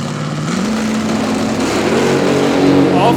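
Drag racing cars, a supercharged blower car and a nitrous car, idle and rumble at the starting line of a heads-up drag race, a steady loud engine drone with a faint announcer voice mixed in.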